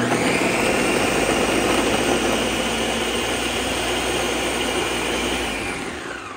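A blender grinding rose petals whirs loudly and steadily, a dense grinding motor roar that eases off slightly near the end.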